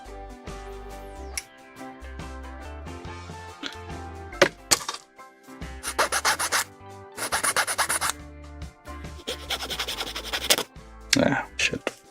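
Plastic Gundam model parts being worked with a hand file, giving several bursts of close, gritty rasping strokes separated by pauses, with bits of other handling noise in between.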